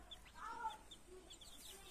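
Faint, soft clucking from a hen mixed with high little peeps of chicks, with ducklings nearby, scattered and quiet in the background.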